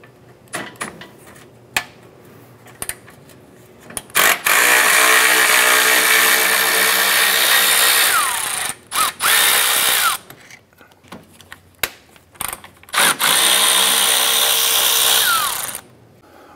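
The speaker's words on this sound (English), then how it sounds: "Using a 10 millimeter socket, we're gonna go ahead and remove our lower fan bolts here." A power tool with a 10 mm socket spins out the lower radiator fan bolts on a 2004-2008 Acura TL, loud whirring bursts of several seconds separated by short pauses and clicks, no voices.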